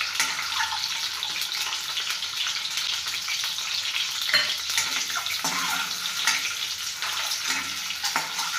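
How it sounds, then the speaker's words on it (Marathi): Eggs fry in a pan for egg curry with a steady, close, crackling sizzle. A few louder spatters and stirring scrapes are heard, and no one speaks. "आपल्याला गोल्डन रंग येईपर्यंत अंडे फ्राय करून घ्यायचे आहे।"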